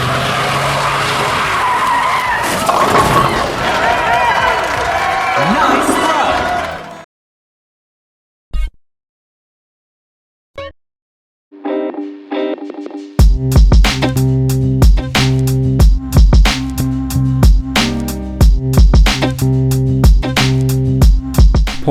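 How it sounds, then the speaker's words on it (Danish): A V8 Ford Mustang skids with loud, close tire squeal and roaring engine, then the sound drops out with only brief bursts before a rhythmic, pulsing engine and music-like beat takes over, no talk. "Du får en V8 motor med amerikansk accent."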